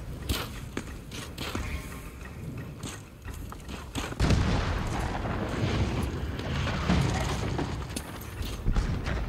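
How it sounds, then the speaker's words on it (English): Trebuchets firing in a Ghost of Tsushima battle: clattering wooden mechanisms and ratcheting, then a heavy rumbling launch and booming impacts that keep rolling on, loud and busy, with no talk. "Who brought trebuchets?"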